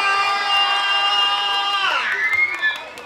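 A children's audience at a storytelling show cheers and shouts together in a loud, sustained roar whose pitch dips near the end, with some scattered clapping mixed in.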